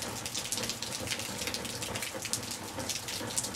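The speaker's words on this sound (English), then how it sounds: "it's still pouring with rain" Heavy rain pours down at an Italian restoration property, a dense continuous hiss of water with splashing gushes, steady and fairly close, with no voices.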